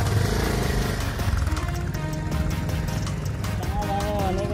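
A Yamaha FZ motorcycle labours up a steep uphill road, its engine a continuous close rumble with a person speaking over it.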